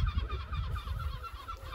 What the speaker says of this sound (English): And the sound of seagulls in the distance.